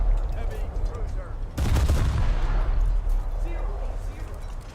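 Heavy cruiser naval guns fire in War Thunder, with one loud, deep booming salvo standing out midway amid continuous game rumble and other noise.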